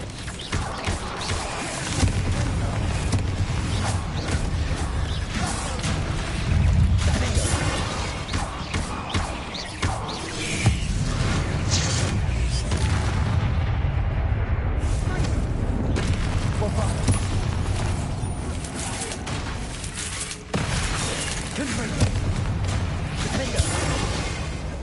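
Bombarda spell blasts in Hogwarts Legacy, a dense run of booming explosions and impacts layered over game music and combat noise, loud and nearly continuous, with a voice calling out spells.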